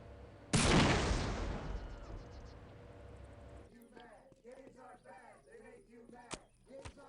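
A hunting rifle shot in the Postal 2 video game sets off a loud, close explosion whose rumbling roar decays over several seconds, followed by a voice talking over faint background game sounds.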